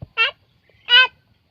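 Two loud, close quacks from one of five newly acquired ducks being raised, separated by a short pause with no other sound.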